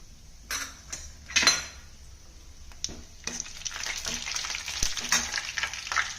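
Vadagam sizzles and crackles in hot sesame oil for a fish curry, a bright hiss that swells and stays busy, broken by a few sharp clinks of a spoon against the pan.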